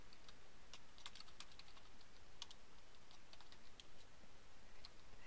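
Fast, light clicking of a computer keyboard while a search term is entered into a WordPress plugin search box, a quiet continuous patter of keystrokes with uneven rhythm.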